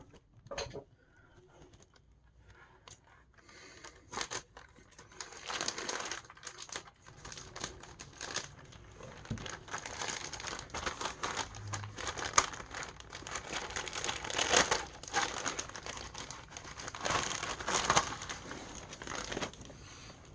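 Scissors cut open the plastic packaging of a Titanic model kit with a string of crinkling snips and rustles. The sounds are close and quiet at first, then grow busier and louder, and no one speaks.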